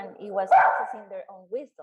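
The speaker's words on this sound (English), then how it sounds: "That's my dog, sorry. It's just fighting with a neighbor dog." A dog barks and yips at a neighbor's dog, a short burst of harsh barking rising over a voice, which keeps talking throughout.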